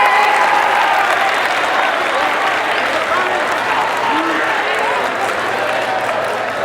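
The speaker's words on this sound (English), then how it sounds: "Give yourselves a round of applause." A large audience at a speaking event gives a full round of applause, loud, dense and sustained across the whole clip with a steady crowd roar and no pause.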